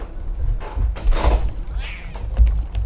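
A cat's meow in the Binding of Isaac style video game, heard as a short rising cry near the two-second mark amid busy game sound effects and thuds.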